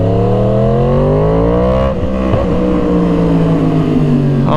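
A Yamaha R1 sport motorcycle engine pulls hard from low revs, its loud, steady exhaust note rising in pitch, dipping briefly at a shift, then climbing again, close and alone with no talk.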